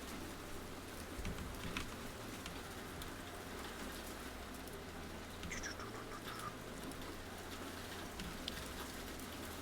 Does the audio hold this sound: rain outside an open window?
yes